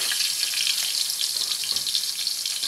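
Chopped garlic and onion frying in a little cooking oil in a pan for a ground pork dish, a bright steady crackling sizzle, close and continuous with no talk.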